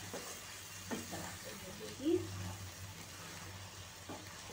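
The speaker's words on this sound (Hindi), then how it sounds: "हल्के हाथों से हम इसको मिक्स करेंगे, क्योंकि अंडे हमारे फूटने नहीं चाहिए।" Egg curry gravy gently stirred in a pan on the stove, a soft steady scraping and bubbling sizzle with brief utensil knocks near the middle, fairly quiet and close.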